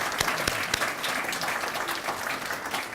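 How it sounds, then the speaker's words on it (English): Applause from the crowd at an iftar dinner in Auckland, a steady dense clapping with a few sharper claps standing out, filling the whole stretch at moderate level. "he needs a round of applause for his contribution"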